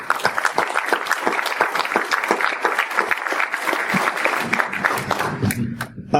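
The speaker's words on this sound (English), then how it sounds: "Let's have a big round of applause" Audience applause at a pulp fiction fan convention panel, a dense wash of many hands clapping steadily and loudly throughout, with scattered whoops and a few voices rising near the end as it tapers.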